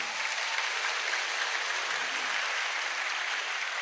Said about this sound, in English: I think he deserves a better applause